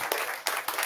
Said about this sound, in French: Applaudis Jésus s'il te plaît.